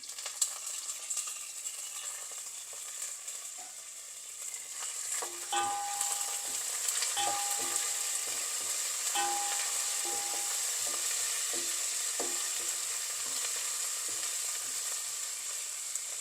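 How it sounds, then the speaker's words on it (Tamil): Curry leaves fry in hot oil for lemon rice with a steady close sizzle and crackle. Stirring scrapes and clinks come at intervals, and a faint voice is heard briefly. "இது எல்லாம் கொஞ்சம் நல்லா பொரியட்டும் கருவேப்பிலையும் சேர்க்குறான்"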